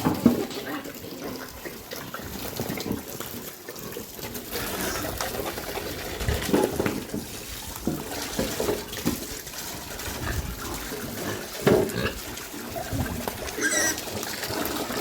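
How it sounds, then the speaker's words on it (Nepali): Water runs steadily from a tap or hose for pigs in summer, a constant close splashing and trickling stream with small irregular spurts and no voices. "तिमीहरूलाई नि पानी आउँदैछ"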